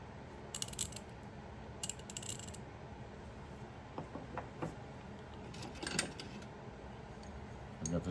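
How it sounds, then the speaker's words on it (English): Circle H ratchet turning, giving short bursts of fine metallic clicking at a few moments over steady low background noise, with faint scattered taps in between. "We've got the Circle H ratchet."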